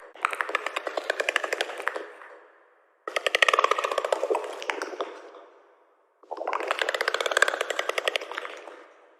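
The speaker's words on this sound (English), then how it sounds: "This is the sound of a shuttle bug" Shuttle bug creature from the undersea video game Subnautica gives off three bursts of rapid, buzzing clicking chatter, each lasting a couple of seconds with brief silences between, sharp and close.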